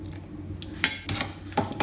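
Utensils clink and scrape against a bowl while chocolate chip cookie dough is mixed with egg and vanilla, a few quiet intermittent taps and scrapes close up.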